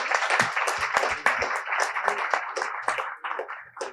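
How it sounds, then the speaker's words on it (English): A small audience claps for the women who run a cantina restaurant, a short burst of close, distinct hand claps that gradually thins out. "So let us give a round of applause to those ladies."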